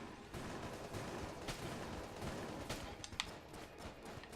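Rapid bursts of video game gunfire crackle steadily through a busy battle mix, with a few sharper shots standing out near the end, fairly loud and continuous.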